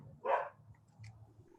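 Dog barking indoors, one short sharp bark near the start followed by a faint second yip, with a low background hum and no talking.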